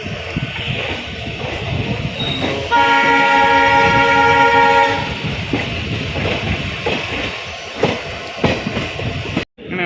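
A train pulling into Mangalore station, its loud sustained horn blaring for a couple of seconds over the rumble and clatter of carriages, with no voices.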